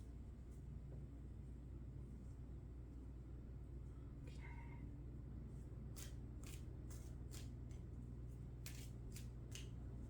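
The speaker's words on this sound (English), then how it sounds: "I don't have to shuffle little flower cards so much" Several quick papery riffles of tarot cards being shuffled, crisp bursts repeating near the end over a steady low rumble in the background.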